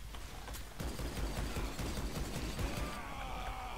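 Rapid gunfire from dual pistols in the Rise of the Triad video game cracks in a dense, fast run of shots, with mechanical clicks and a brief pause near the end.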